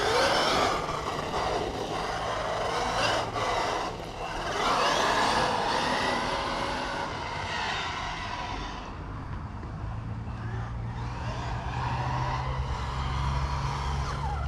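A Traxxas XRT Beetle RC car drives around a track, its electric motor whining steadily with shifting pitch as it speeds up and slows, accompanied by a low rumbling drone throughout with no talking.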